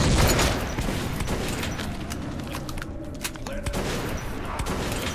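Rapid gunfire from the video game Metro 2033 Redux crackles in a dense, loud barrage of shots that keeps going without pause.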